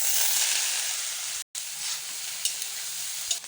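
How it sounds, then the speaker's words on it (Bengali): Small chopped soybean chunks fry in hot oil for a lentil khichuri, a steady bright sizzle that drops out briefly before resuming, with a few soft clinks. "এটাকে এবার তেলে ভেজে নেব।"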